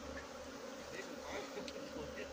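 Honey bees from a wild rooftop colony swarm around their queen, a thick, constant buzzing drone close at hand with no speech over it.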